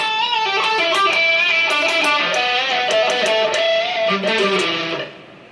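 A distorted electric guitar plays a solo, a quick melodic run of bent and picked notes, loud and sustained, fading out at the end.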